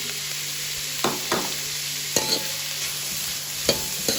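Green chillies fry in oil for street-style chicken kothu parotta, giving a steady close sizzle. Several sharp spatula scrapes and clacks against the pan break in at irregular intervals.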